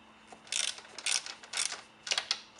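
A wrench loosens a stiff suspension mount on a 2016 Kawasaki ZX10R exhaust, giving a run of close ratcheting clicks in uneven bursts with short pauses between them.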